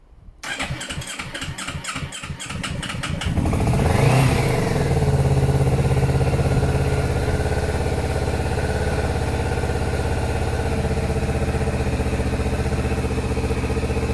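A Kawasaki motorcycle engine that had not been running cranks with rapid chugging, catches, then revs up loudly before settling into a steady, rumbling idle that continues close by.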